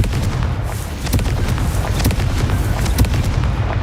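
Confringo fire-spell explosions in the Hogwarts Legacy video game, a dense, loud barrage of booming blasts and crackling bursts layered over continuous rumbling combat noise.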